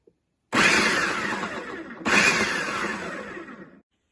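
A food processor pulsing sliced onion, shrimp and a green chili in two loud bursts of whirring, the second following a brief pause.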